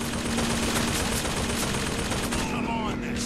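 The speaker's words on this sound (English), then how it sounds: "Who's shooting at me?" Gunfire in the video game BioShock Infinite, dense rapid shots overlapping in a loud continuous barrage with a steady tone underneath and game noise throughout.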